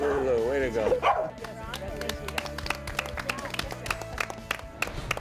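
A dog named Lulu gives a few sharp, high barks and whimpers near the start, followed by clapping and patting as people talk excitedly close by.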